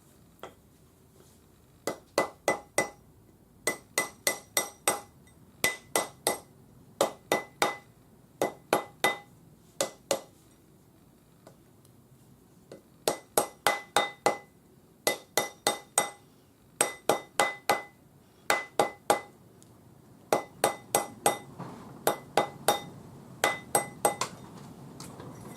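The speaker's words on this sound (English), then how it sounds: "I'm just going to round this up on my ring mandrel using the rawhide hammer." Quick groups of sharp, ringing taps repeat in a steady rhythm, a small rawhide hammer striking a twisted wire ring on a mandrel, close and alone.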